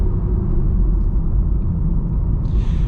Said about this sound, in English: And a quick brake test.